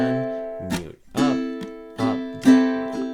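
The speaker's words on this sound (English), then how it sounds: "Now, if I can just mute on beat 2, then I'll get the rhythm" Close ukulele strumming in a short rhythmic pattern, ringing chords alternating with a percussive muted chuck on beat two, repeating a few times.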